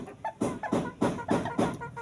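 A rooster called Bardagul gives a run of close, loud clucks in a steady pulsing rhythm, about five bursts in two seconds, with no talk over them.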